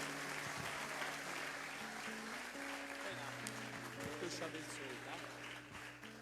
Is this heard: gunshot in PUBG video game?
no